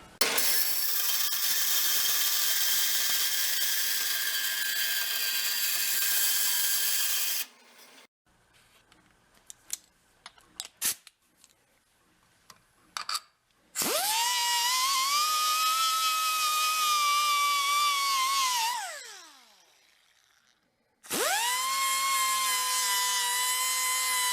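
A metal part on an antique military engine being trimmed with a power tool, long loud grinding runs that whine down and cut out, separated by a stretch of quieter clanks and taps.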